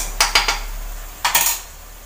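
A spoon scrapes and clinks against a pan in two quick bursts of several strokes each, stirring masala into sautéed onions; close, clear metallic knocks with no talking.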